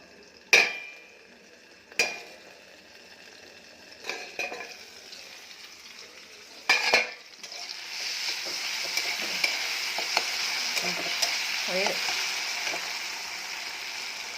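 Fenugreek greens fry in a pan with a steady sizzle, broken early by a few sharp clanks of a utensil against metal, then a continuous hiss with scattered scraping stirs, close and moderate in level.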